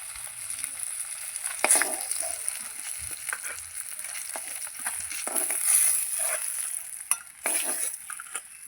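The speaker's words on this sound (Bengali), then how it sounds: "এই মাছগুলো আমি লাল লাল করে ভেজে নিয়েছি" Pieces of katla fish sizzle and crackle in hot oil in a kadai while being stirred and lifted out. The frying hiss runs steadily, with sharp spatters and a few scraping stirs, and no talk.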